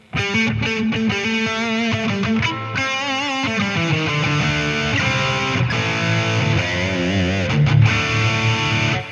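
Electric guitar through a BOSS 200 Series overdrive pedal with an overdriven, crunchy tone plays a lively run of bent notes and chords, loud and unaccompanied throughout.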